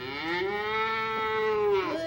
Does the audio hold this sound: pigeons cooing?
no